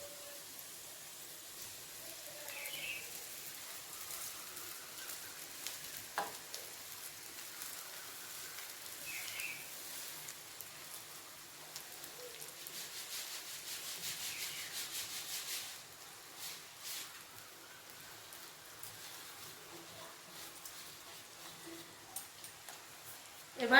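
A spatula scrapes and stirs flattened rice (poha) with fried peanuts in a frying pan. The soft, repeated rubbing strokes sound faint and close, with occasional light clinks.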